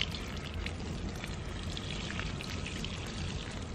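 Water pours steadily from a watering can or hose onto potted plants, a continuous soft splashing wash that is fairly quiet and holds evenly throughout, with no talking.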